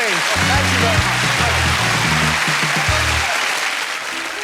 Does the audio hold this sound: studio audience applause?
yes